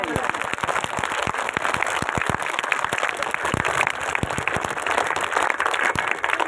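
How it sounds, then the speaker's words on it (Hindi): Schoolchildren at a school gathering clapping hard for their teachers: loud, dense applause from a large group of young hands, sustained and close throughout. "तो अपने तमाम टीचरों के लिए एक बार जोरदार ताली बजाओ।"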